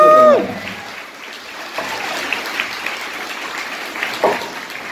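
A live audience applauds for a country singer at a 2019 show, a broad wash of clapping following a brief tonal sound at the start, with a few scattered whoops near the end.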